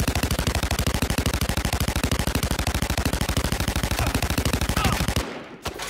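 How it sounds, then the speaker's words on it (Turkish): Rapid automatic gunfire in a multiplayer shooter video game, a loud continuous burst of evenly spaced shots lasting about five seconds before cutting off abruptly. "Bak ta nereden sıkıyorlar görüyor musun?"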